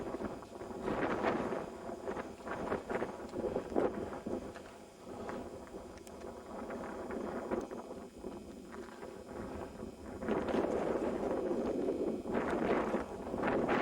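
Wind gusts buffet the microphone in a loud, rough rush that rises and falls throughout on an overcast day in Death Valley, with no voices.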